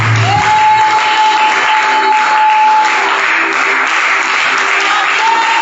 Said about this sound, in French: l'applaudissement, s'il vous plaît